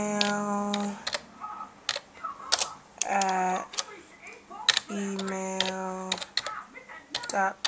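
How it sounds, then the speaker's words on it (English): Typing on a computer keyboard while composing an email in Notepad, with scattered crisp key clicks mixed with voice-like tonal sounds. "just type it in"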